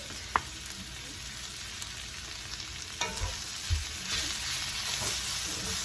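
Jackfruit sautéing in a pan, a soft steady sizzle with occasional clicks and stirring knocks from a utensil, fairly quiet and close with no speech.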